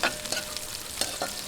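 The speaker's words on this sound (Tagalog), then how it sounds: "lagay na po natin itong ating sibuyas. Ayan, gisa-gisahin lang po natin." Chopped onion stirred into hot oil with ginger and garlic for chicken paksiw, giving a steady close sizzle with soft scraping strokes of a spatula, no voices.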